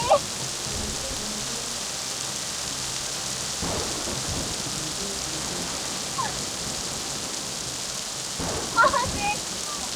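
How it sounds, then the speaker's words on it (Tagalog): Heavy rain pours steadily during a strong storm in a forest, a dense close hiss broken by sharp cracks of thunder near the start and again toward the end, with faint voices underneath. "ulan lang to at kidlat"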